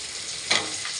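Vegetable stalks lightly frying in a pan, a steady close sizzle with a brief louder burst of crackle midway through one second.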